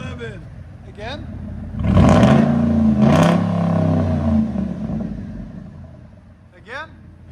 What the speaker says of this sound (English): Your sound sounds good.